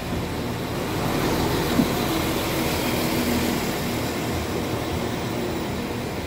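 A passenger train, a sleek multiple unit heading to Leeds, departs Nottingham station, giving a steady broad rumble and hum of traction and rolling stock that holds level throughout with no voices.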